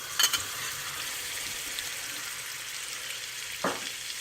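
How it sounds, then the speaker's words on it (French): Butter melting in a frying pan gives a steady, fairly quiet sizzle that runs throughout, with a couple of brief clicks or taps at the start and another near the end. "Je mets un peu de beurre."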